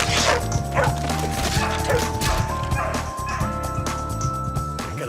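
Several dogs in a kennel bark, yip and whine in a busy overlapping chorus that runs throughout, loud and close, with no talking.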